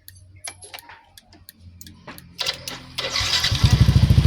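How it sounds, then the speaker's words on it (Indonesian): A Yamaha NMAX scooter starts up nearby: a few clicks and clunks, then a starter whir that catches into a loud, rapidly pulsing idle which holds through the last second, with no talking. "Boleh dihidupin coba motornya"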